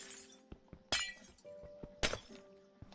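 Glass panes shatter twice in a video game, each a sharp bright crash followed by a short tinkling tail. Small clicks fall in between, and the whole clip is quiet.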